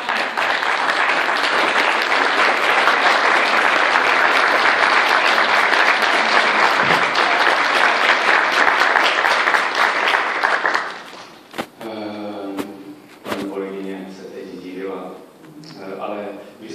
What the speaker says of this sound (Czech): očekávám bouřlivý potlesk